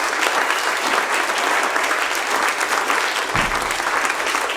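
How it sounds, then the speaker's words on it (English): Guests at a memorial gathering in a studio give dense, sustained applause that stays loud and even throughout, with no talking over it. "I think we should applaud them."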